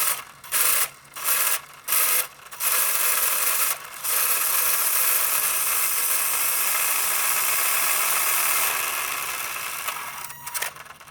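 A small electric motor fitted into a 1990 Mazda MX-5 Miata diecast model car runs at full throttle. A few short, close whirring bursts lead into one sustained raspy drone that fades near the end.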